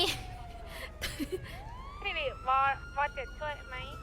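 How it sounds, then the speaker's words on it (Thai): A police car siren wails and sweeps in pitch, fairly close and loud, during a chase of teenagers in a noisy street scene with traffic and background voices. "นี่ค่ะ รถตำรวจค่ะ"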